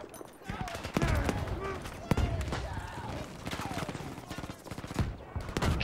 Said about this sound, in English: they keep throwing grenades at me